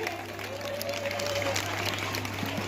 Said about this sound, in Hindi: जोरदार तालियों से इनका इस्तकबाल करिए।